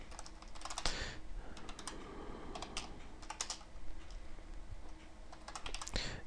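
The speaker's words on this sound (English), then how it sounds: "let me finish typing this out here" Close, quiet typing on a computer keyboard, a steady patter of quick keystrokes in uneven bursts with brief pauses between them, heard alone without any talking.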